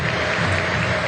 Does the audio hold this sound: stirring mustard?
no